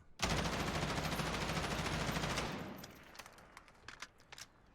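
A stock M4 rifle in Warzone fires a sustained fully automatic burst of rapid, evenly spaced shots for about two seconds, then stops, leaving faint clicks and small handling sounds.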